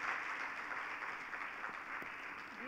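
An audience claps during an onstage conversation after a sung line, a dense, even round of applause heard close and continuous, with no speech over it.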